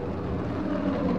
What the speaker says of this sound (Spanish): El que va es un avión sobre ustedes